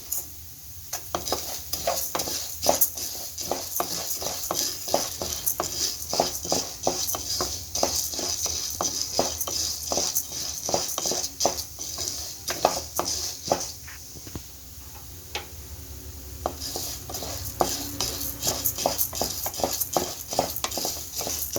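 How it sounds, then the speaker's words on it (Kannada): Urad dal roasts dry in a pan, Andhra style, with a spatula scraping and stirring in quick, irregular strokes, a constant gritty rattle of grains and metal clinks close by, and no talking. "ಒಳ್ಳೆ ಘಮ ಬರೋವರೆಗೂ ಚೆನ್ನಾಗಿ ಹುರ್ಕೊಳ್ಳಿ ಕಲರು ಚೇಂಜ್ ಆಗಬೇಕು"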